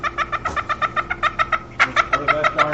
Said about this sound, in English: What is that darn bird?